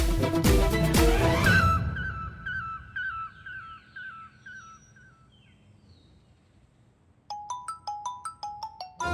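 A phone ringtone plays a repeating chirpy melody, briefly drowned out at the start by a loud burst, then returns clearly with bright tones.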